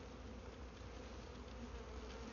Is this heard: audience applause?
no